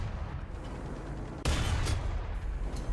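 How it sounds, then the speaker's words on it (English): Explosions in a tank combat video game: a low rumbling battle bed with a sudden sharp blast midway, followed by continued distant booming and crackle, fairly quiet overall. "I hear so many bombs going off and I'm just scared I'm going to die at like any second"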